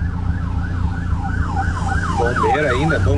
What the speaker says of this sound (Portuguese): Sirene? Ambulância lá, dos bombeiros.